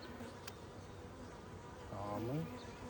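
Honey bees buzz steadily around an opened beehive during an inspection, a dense close hum with a louder, rising drone near the end.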